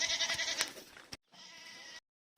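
Goats bleating while grazing in Dubai, a wavering nasal bleat followed by a second shorter one after a brief gap, fairly close and with no talking.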